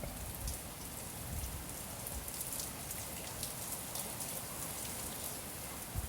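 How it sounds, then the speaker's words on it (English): Steady rain from an approaching storm falls on surfaces at a house in Spain, a dense, even hiss of drops with no voices, moderately faint and continuous throughout. "I'll leave the rain on for a bit, just for those that are interested in watching the storm coming in"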